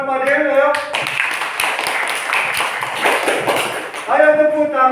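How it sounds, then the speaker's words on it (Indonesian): Primary school classroom applause for a pupil, a burst of many small hands clapping fast and unevenly for several seconds, with a voice talking before and after. "Ya, tepuk tangan buat Padil ya."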